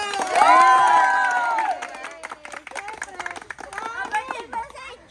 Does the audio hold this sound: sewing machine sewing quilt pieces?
no